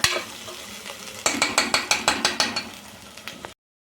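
Mutton pieces in a pan with potatoes and ginger-garlic paste being stirred in oil: a loud opening clatter, then a quick run of about nine rhythmic metallic scrapes of the spoon against the pan over a soft sizzle, ending abruptly.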